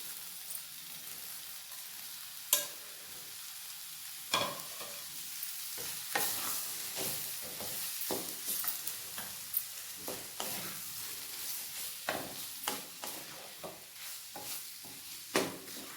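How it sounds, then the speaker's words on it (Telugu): Beans frying in a pan give a continuous bright sizzle, with sharp clinks and scrapes from stirring every second or so, close and clear, with no talking. "2 నిమిషాలు బాగా ఫ్రై అయిపోయినాక బీన్స్ వేసేసుకోవాలి మనము."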